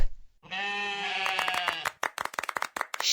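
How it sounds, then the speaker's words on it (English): A sheep on a farm gives one long, clear bleat close by, followed by a run of quick clicking and rattling noises. "sheep,"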